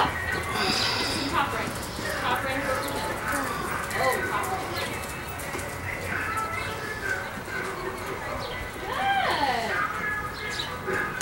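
Horses trotting in a saddle seat pleasure show ring, with faint rhythmic hoof clip-clop under a steady crowd murmur and an announcer's voice over the arena.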